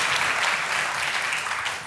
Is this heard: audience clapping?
yes